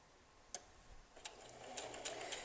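A sewing machine stitching quilt pieces gives a few quiet clicks at first, then runs on as a faint steady whir with light mechanical ticks, heard close with no voice.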